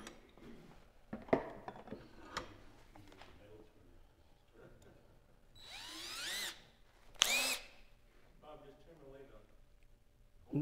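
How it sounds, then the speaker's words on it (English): A power drill boring into a small turned wooden mini birdhouse ornament, with short whirring bursts between quieter handling noises and a couple of louder high-pitched spins near the middle; people talk around it. "I don't want to drill through the side of it."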